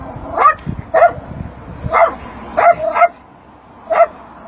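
A dog barks from inside a cage in a car, heard in an advert: about six sharp, mid-pitched barks in an uneven rhythm, fairly close and loud, with faint background noise between them.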